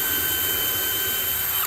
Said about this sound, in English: So if I'll actually drill these into that second board,